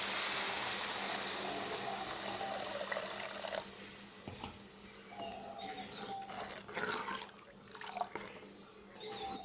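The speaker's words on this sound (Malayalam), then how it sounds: "പുളിവെള്ളം ഒഴിക്കുവാണേ." Tamarind water is poured into a pot for rasam, a faint splashing trickle at first that fades into scattered drips and light kitchen clatter, with faint birds chirping in the background.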